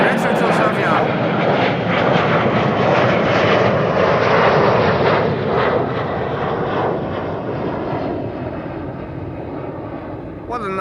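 A Transavia airliner in retro livery departing Schiphol Airport, its jet engines producing a loud, broad roar that holds steady and then slowly fades as it climbs away.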